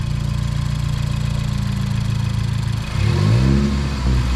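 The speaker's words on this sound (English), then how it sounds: "Give her a few revs." A straight-piped Ford Focus ST with a loud, steady idle rumble that lasts a few seconds, then blips into a couple of quick revs close by, with no talking.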